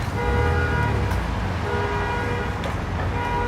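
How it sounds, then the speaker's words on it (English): A car alarm sounds on a Manhattan street in the evening, a steady repeating electronic tone over constant traffic noise, with a few faint horn toots mixed in. "It looks like the car that's alarming is some guy's car, but he's not able to turn off the alarm."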